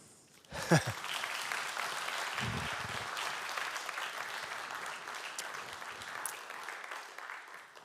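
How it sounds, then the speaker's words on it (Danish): An audience bursts into applause after a speech at a public talk, a sudden onset of dense clapping that holds steady for several seconds before slowly thinning out. "gjør den med klapp"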